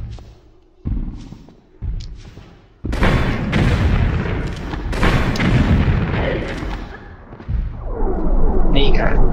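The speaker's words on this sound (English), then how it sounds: "Wonder if I should get out a rocket launcher as well. Might do a bit more damage." A rocket launcher fires in the video game Tomb Raider 3, sending heavy booming blasts that kick in suddenly and rumble on over a noisy, ongoing game soundtrack.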